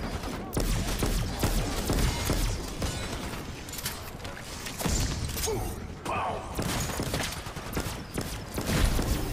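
Rapid bursts of AK assault rifle fire ring out during a Black Ops 6 Zombies match, with repeated loud volleys and thuds while players talk over the shooting.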